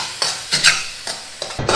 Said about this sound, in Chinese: 将鸡蛋翻炒一下